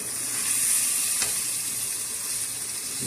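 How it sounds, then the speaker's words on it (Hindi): Spices being mixed into matar keema frying in a pan, a steady close sizzle with light stirring scrapes throughout, no voices. "ये मसाले डाल के इसको अच्छी तरह मिक्स करना है।"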